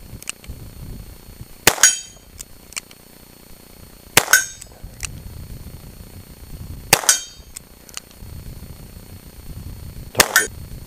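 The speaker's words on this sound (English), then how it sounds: "What a really, really sweet shooting gun." Four sharp gunshots from a Smith and Wesson Model 66 .357 Magnum revolver fired outdoors at a distant target, spaced a few seconds apart, each a loud crack with a short ringing tail over quiet background.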